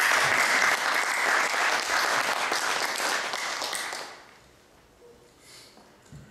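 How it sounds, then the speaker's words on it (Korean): Church congregation applauding the worship team at a Sunday service, a steady wash of many hands clapping for about four seconds before fading away into near silence. "우리 찬양팀 한번 박수 보내시다"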